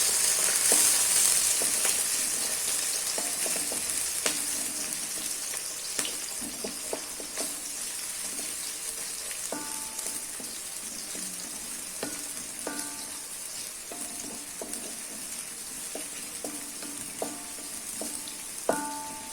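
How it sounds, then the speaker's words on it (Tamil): Two medium onions and a green chilli sautéing in a pan with cardamom for a tomato kurma, a steady bright sizzle punctuated by repeated stirring scrapes and spoon taps, close and without talking. "2 மீடியம் சைஸ் பெரிய வெங்காயமும் ஒரு பச்சை மிளகாயும் போட்டிருக்கேன். இது நல்லா வதக்கிக்கலாம்"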